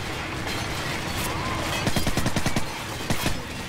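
Flashbang and gunfire in Call of Duty 4 during a squad room-clearing breach: loud, dense bursts of rapid shots in a sustained fusillade, with sharp repeated cracks cutting through a constant battle din.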